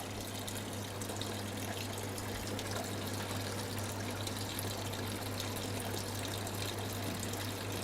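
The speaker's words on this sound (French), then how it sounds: "Allez, mets-moi du vin blanc. Encore. Je vais mettre un bon litre." White wine poured into a pot of stuffed mussels à l'agathoise, a steady, even liquid pour with a low pump-like hum underneath, continuous and moderately quiet, no talking.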